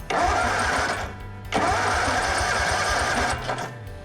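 An Exmark zero turn mower's starter cranks through a jumpered solenoid, grinding loudly and steadily in two close bursts separated by a brief break.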